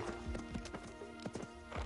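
A horse's hooves clip-clop in a brisk trot, the diagonal gait giving a steady run of sharp hoof strikes, with a faint whinny in the background.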